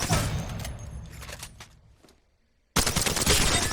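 Weapon fire in the Apex Legends firing range: a sustained burst of rapid automatic shots, loud and close, tails off into near silence, then a second dense burst abruptly starts up.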